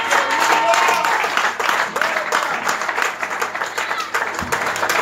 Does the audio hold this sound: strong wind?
no